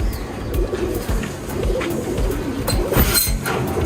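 A black-necked pigeon and others coo close by in a pigeon loft, repeated throaty rolling calls over a busy background with no talking.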